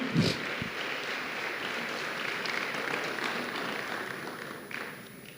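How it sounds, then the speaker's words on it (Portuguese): Sustained applause from a church youth-gathering audience praising actors after a skit, a broad steady wash of clapping that holds for several seconds before easing slightly at the end. "Vamos aplaudir nossos atores aqui que aceitaram o desafio."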